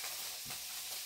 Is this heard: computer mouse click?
no